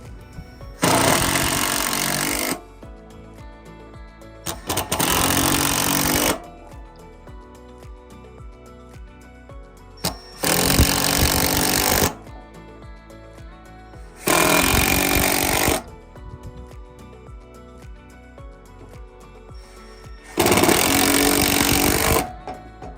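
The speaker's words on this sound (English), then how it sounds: "installing the remaining 6 screws in the available holes in the hinge plate" A power driver drives screws into a MORryde flip tread step hinge plate in five loud, close bursts of a couple of seconds each, separated by quiet gaps.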